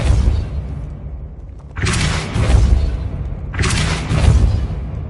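Spell impacts from the Depulso force-push spell in the video game Hogwarts Legacy: two loud whooshing booms with a crackling burst, each one standing alone with no talk over it.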